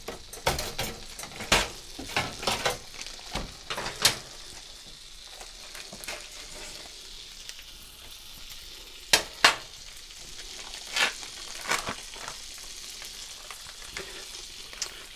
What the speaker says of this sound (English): going right into the cast iron pan with the butter